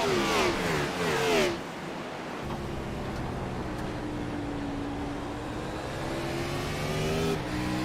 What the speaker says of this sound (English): When one car sounds way lower than the other one, you can tell the other one's shifting.